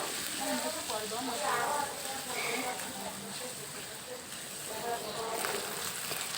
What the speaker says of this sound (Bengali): ওই তেলে আমি দিয়ে দিলাম এক মতো পরিমাণের পেঁয়াজ দিয়ে হালকা ভাজা হয়ে গেলে ওখানে দিয়ে দিলাম আমি রসুন বাটা